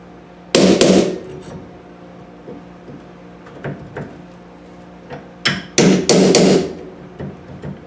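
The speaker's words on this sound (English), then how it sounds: "I've got this thing here called a transfer punch. And I'm going to use it to locate the holes on my hinge here." A hammer taps a transfer punch to mark hinge holes during basement storage work: a sharp pair of strikes near the start, a few light knocks, then a quick loud cluster of three or four blows, close and with no talking.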